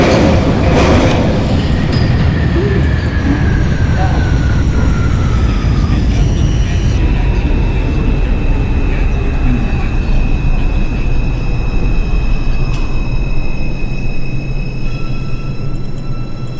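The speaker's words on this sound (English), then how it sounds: "This is a Manhattan-bound 4 local train." A simulated R142 New York subway train, a Manhattan-bound 4 local near Junius Street, rumbles along with a continuous low roar and rising and falling motor whine tones, steady and close throughout.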